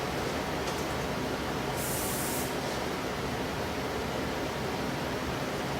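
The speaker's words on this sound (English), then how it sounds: "just spray the hairpin so when you stick it into that base, it'll keep it together" A steady broadband hiss runs throughout, with a brief brighter burst of hairspray sprayed onto a hairpin near the middle.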